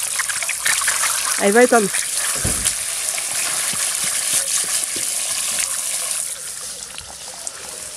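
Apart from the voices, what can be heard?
water spraying out of a punctured water balloon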